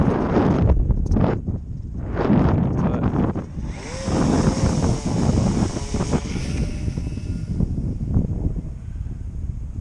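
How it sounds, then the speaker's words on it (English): Gusty wind buffets the microphone outdoors while a KooTai KAI-84 drone is flown, a steady broadband roar that swells and eases throughout, with a faint high motor whine above it. "that wind sucks all of a sudden"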